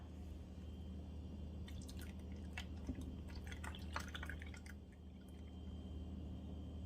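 A can of evaporated milk pours into a blender in a short run of splashy, gurgling bursts, quiet and close over a low steady hum.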